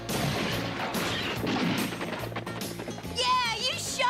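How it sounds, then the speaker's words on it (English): Gunshots in an animated Zorro cartoon, booming reports and crashes mixed with excited voices shouting and talking, plus a warbling whistle-like effect toward the end. "Go on, shoot him!"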